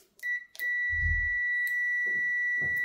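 Digital multimeter set to continuity mode beeps as its probes touch a fuse during a cold test: two short beeps, then a long steady tone that holds to the end, with a low thump and some brief faint talk underneath.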